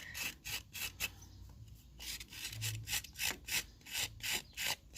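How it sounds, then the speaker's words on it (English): A tool scrapes back the walls of a ceramic pinch pot in short rhythmic rasping strokes, about a dozen passes close up, with brief pauses between bursts. "And where I feel it needs a bit more scraping back, I will do that."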